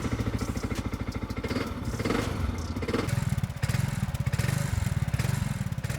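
Segway Snarler quad ATV engine starting and settling into a steady, throbbing idle, loud and close, with a low pulsing rumble throughout and a slight change in tone midway.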